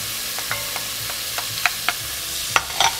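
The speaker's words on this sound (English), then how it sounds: "And I'm gonna give it a good stir." Green bell pepper sizzles steadily in a frying pan while a utensil stirs it, giving several light scraping taps and clicks against the pan over constant frying hiss.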